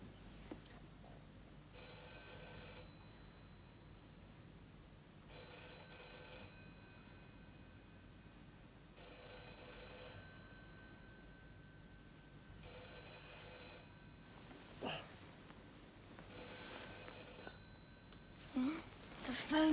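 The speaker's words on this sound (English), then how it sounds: "It's a phone." A telephone rings in a quiet room in a 1970s British television drama, sounding in five evenly spaced double bursts of bright electric bell, with faint voices and movement between the rings.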